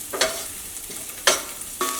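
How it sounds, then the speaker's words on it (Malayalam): Thinly sliced vegetables frying in an open pan are stirred in three separate scrapes and sizzling bursts, with a soft, steady frying hiss underneath, close by and without talk. "തുറന്ന് വെച്ചിട്ട് തന്നെ ഇതേപോലെ ഇളക്കി കൊടുക്കാം"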